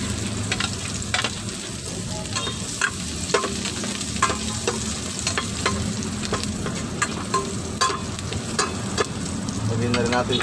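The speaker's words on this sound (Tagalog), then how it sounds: "Habang pinapainit, pag mainit-init na, lagyan natin ang bawang." Garlic sizzles in hot oil in a pan while a utensil scrapes and stirs it at a steady rhythm, with crisp clicks of the spoon over continuous frying hiss, close and moderately loud.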